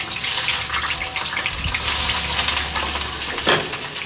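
Sliced onions drop into hot oil in a kadai while making Sindhi biryani masala, and a loud, continuous hissing sizzle follows close by.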